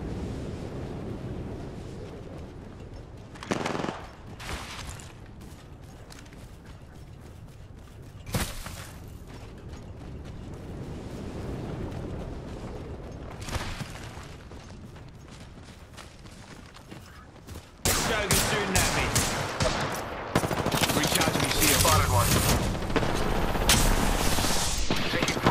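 Gunfire in the battle royale game Apex Legends: scattered bursts of shots and impacts over a steady background, then louder, dense sustained firing toward the end, with voices talking in between.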